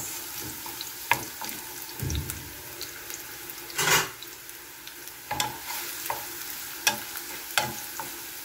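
Garlic and onions sauté in oil in a pan, with a soft bubbling sizzle and spoon clacks and scrapes that come and go irregularly, plus one longer stirring swish in the middle.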